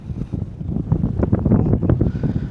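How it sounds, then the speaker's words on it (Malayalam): Strong wind gusting across the Parunthumpara hilltop viewpoint above a steep drop, a steady roar buffeting the microphone with rising and falling gusts, heard alone without voices. "ഓ, നല്ല കാറ്റ് വീശുന്നുണ്ട് കേട്ടോ."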